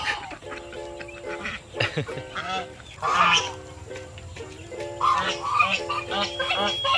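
Geese honking in a farm poultry area, repeated nasal honks in irregular bursts, fairly close, with other fowl calls and faint voices mixed in.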